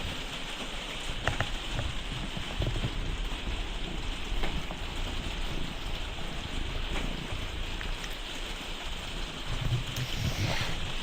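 Steady rain falls, a dense, even hiss of drops on a surface with occasional louder patters, continuous throughout and with no voices.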